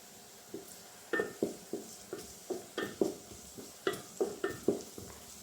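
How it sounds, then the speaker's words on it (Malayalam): Sliced onions sautéing over a medium flame while a spatula stirs them in a regular rhythm, each stroke a close scraping swish over a faint steady sizzle. "സവാള ഞാൻ ഇതിനകത്തേക്ക് ഇട്ട് കൊടുത്തിട്ടുണ്ട്. അപ്പം അത് ഒന്ന് വേവുന്നത് വരെ നമ്മൾ നന്നായിട്ട് ഇളക്കി കൊടുക്കുക."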